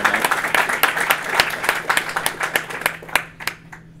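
Audience applause fills a conference talk on the Go programming language, a dense run of many hands clapping at close range that thins and tapers toward the end, with no talking over it.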